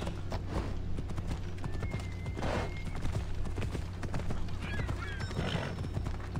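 Horse hooves clip-clop at a ride in the video game Assassin's Creed Odyssey, a steady close rhythm of hoofbeats with a couple of whinnies over a low constant background drone.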